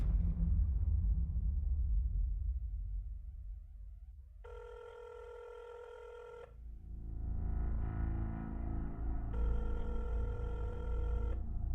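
An old-style telephone bell rings in two long bursts separated by a pause, heard over a low rumbling hum in a tense, dramatic setting.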